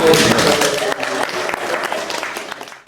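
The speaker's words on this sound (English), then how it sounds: "Give yourselves a round of applause" A festival audience at the Museum of Liverpool's 2023 Liverpool Hip Hop Festival breaks into a round of applause, loud clapping at first that gradually thins and fades toward the end, with voices faintly beneath.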